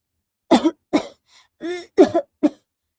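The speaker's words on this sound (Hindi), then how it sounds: "जोर जोर से खांसने लगती है" A string of harsh, close coughs: several quick bursts in a row, a short pause, then a few more hacking coughs, with no talking.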